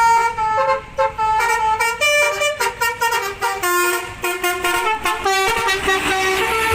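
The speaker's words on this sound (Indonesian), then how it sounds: "Yuhu, keluarlah bus telolet." A toy telolet bus horn plays a loud, melodic tooting tune of short repeated staccato notes in a rapid rhythmic sequence, close and bright, with no talking over it.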